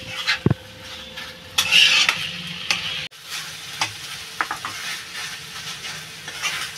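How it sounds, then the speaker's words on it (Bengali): Leafy greens (saag) fry in a pan with a steady sizzle, broken by sharp scrapes and clinks of a spatula stirring against the metal, close up with no talking. "শাক ভাজাটা আমার প্রায় হয়ে গেছে"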